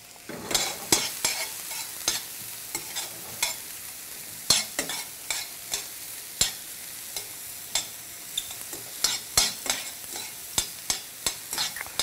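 Vegetables for a healthy lasagna sauté in a pan. A soft sizzle sits under repeated sharp clicks and taps of a utensil against the pan at an irregular stirring rhythm, with no speech.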